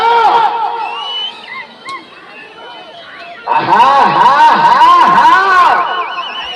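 A crowd at a prize competition in Yaganti shouts and cheers loudly with overlapping voices and whistle-like calls, quieter at first, then swelling into a dense, sustained roar partway through.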